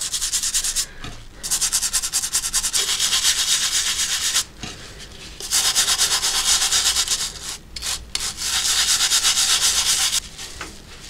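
An old, heavily rusted shovel is scrubbed with detergent, a brush and a sponge, giving loud, fast, close rasping strokes in several long bursts separated by short pauses, with no talking.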